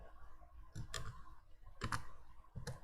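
Typing on a computer keyboard: a few quiet, sparse key clicks in small clusters, close and soft against a low background hum.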